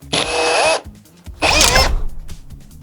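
A cordless drill drives screws into wood for an aged lintel, two loud whirring bursts with a pause between them, the second strained and uneven as the screw tightens.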